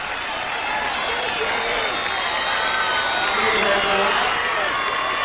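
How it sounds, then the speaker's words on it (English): A large crowd at a girls' state high school track and field final cheers and roars steadily as a runner nears the finish, a dense continuous wash of voices with scattered clapping. "the crowd eggs her on"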